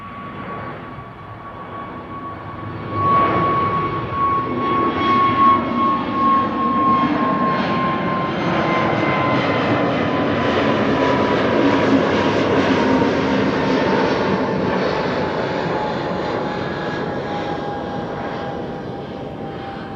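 EasyJet airliner bound for London Luton taking off from runway 24 (Kaagbaan) at Amsterdam Schiphol, a steady loud jet roar with whining engine tones that swells after a few seconds and holds throughout, heard alone.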